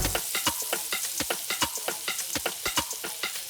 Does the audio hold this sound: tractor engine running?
no